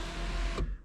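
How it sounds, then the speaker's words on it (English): Electric sunroof motor in a BMW E46 M3 Touring whirring steadily at close range, then stopping abruptly as the panel reaches its end position. "also I was able to get the sunroof working in this thing"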